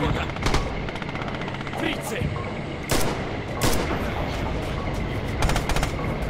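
Machine gun fire in Red Orchestra 2 on the Mamayev Kurgan map, with repeated loud bursts and single shots that crack throughout. A voice talks over the shooting.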